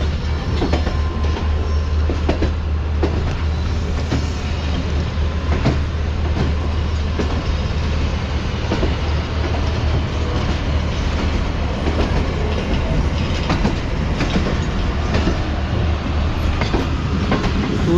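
Awam Express coaches pass close by with a loud, unbroken rolling roar, punctuated by a steady run of rhythmic wheel clacks throughout.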